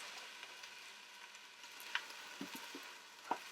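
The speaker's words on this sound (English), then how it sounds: "So, this onion is getting nice and sauteed." Onion sautéing in a pan for pumpkin chili, a faint steady sizzle with a few soft stirring knocks and clicks, quiet and close.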